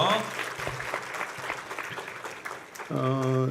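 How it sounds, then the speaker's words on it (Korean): A church congregation applauds during a Korean service, a broad sustained clapping texture with speech over it, then a sustained musical tone or chord enters near the end. "큰 박수 보내주십시오"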